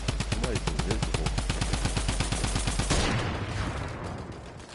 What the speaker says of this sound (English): Man, it's AK.